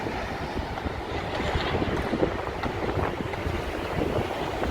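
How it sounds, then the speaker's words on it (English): Steady, rushing wind buffets the microphone with a broad roar that swells and gusts throughout, no voices present, on a downtown Chicago street near Monroe and Michigan. "it's windy over here as well. I can hear the wind."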